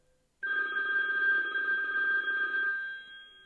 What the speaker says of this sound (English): Why don't we let that ring, Sevens?